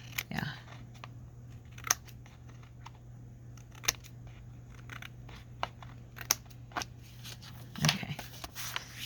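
Scissors trimming journal card paper in quiet, irregular snips and crisp clicks, some sharper than others, spaced over a low steady hum.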